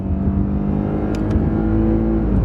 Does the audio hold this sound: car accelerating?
yes